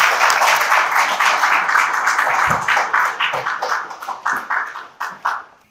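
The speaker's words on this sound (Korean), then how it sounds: "큰 박수로 맞이해 주시기 바랍니다." Audience applause welcoming a keynote speaker at a political research forum, a strong burst of clapping from the room that gradually breaks up into separate, fading claps near the end.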